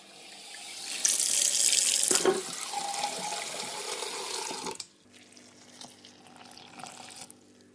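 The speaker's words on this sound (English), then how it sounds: "Add 300 millilitres of water." Water runs into a container from a tap, meant for a boxed bread mix: a bright, loud splashing stream for a few seconds, then a lower steadier pour, before it stops and small drips and handling noises follow.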